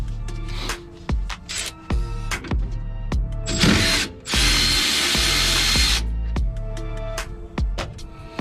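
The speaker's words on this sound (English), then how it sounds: "So we have to remove 2 of the 13mm bolts here on the slider first" Power tool whirring in short bursts while removing the two 13mm caliper slider bolts on a 2015–2019 Ford F150's rear brakes, with ratcheting clicks and one longer sustained run, close and loud.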